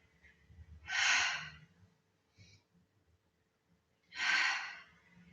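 During a Pilates leg exercise, two long, forceful exhalations come through close and clear, each lasting about a second, several seconds apart. Softer breaths fall in between.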